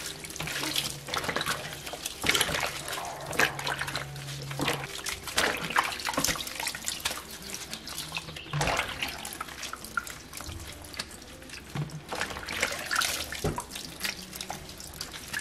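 Tomatoes and other vegetables washed under a running tap in a kitchen sink, a steady close rush of water with splashes, drips and the occasional knock of produce against the basin.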